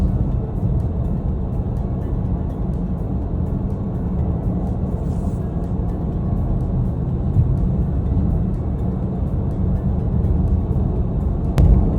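Porsche Panamera GTS accelerating on the road, heard from inside as a steady, loud, low engine and road rumble that holds throughout without speech.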